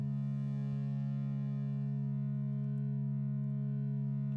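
Two synthesizer oscillators running together in Reaktor, a steady, faint buzzing drone held without change.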